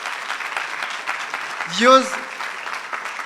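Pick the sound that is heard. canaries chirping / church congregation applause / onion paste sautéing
church congregation applause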